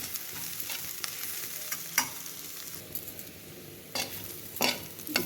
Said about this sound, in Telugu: ఇలా మధ్యలో ఇలా కలుపుతా బాగా వేగేదాకా ఫ్రై చేద్దాము.